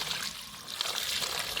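Water poured out for washing laundry by hand, a steady broadband splash and trickle running continuously and close by, without any talk.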